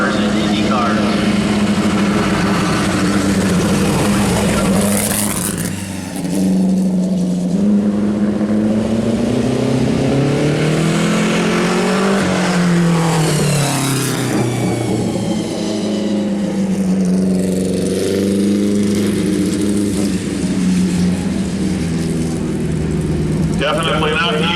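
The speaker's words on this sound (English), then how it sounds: "It is good to have it out running well, and we're glad the Curtis Midget is in good shape again." A vintage Curtis midget race car engine runs and revs at a fall car show, loud and near, rising and falling in pitch as the throttle is blipped, with people talking underneath.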